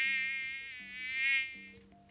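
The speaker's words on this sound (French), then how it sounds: "Il y a eu un bruit de moustique" A whining mosquito buzz from the video game Plague Inc, thin and steady with a slight waver, sounds alone and fairly quiet for a couple of seconds.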